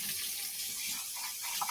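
Water runs steadily from a tap, rinsing a cup during hand washing of dishes, a close continuous hiss and splash with small shifts as the cup moves under the stream.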